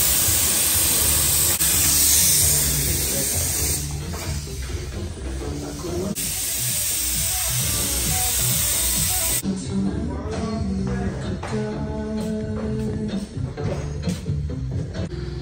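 Primer hisses from a spray gun onto a car body in a workshop, a loud continuous spray in long bursts with short pauses and some clattering between passes.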